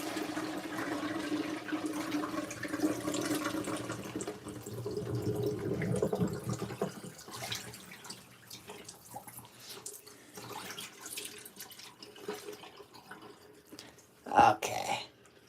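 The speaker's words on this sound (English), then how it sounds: "That looks like the waterfall fill on a top loader." LG ThinQ MEGA Ultimate top-load washer filling with water through its waterfall fill, a soft steady rush and trickle running throughout, with a short sharp splash or clunk near the end.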